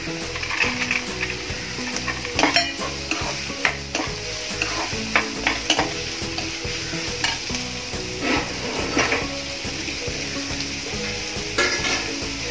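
Garlic, chili and dal frying in hot oil in a pan for a kurdu bhaji, with a steady close sizzle broken by frequent scraping stirs of a spoon against the pan.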